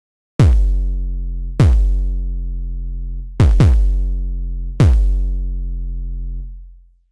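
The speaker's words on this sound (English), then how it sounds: "I'm going to be showing you how to synthesize an 808 kick drum that'll sound like this" A synthesized 808 kick drum hits four times, each a deep booming thump with a sharp click attack and long pitch-dropping tail, two strikes close together in the middle, loud and alone.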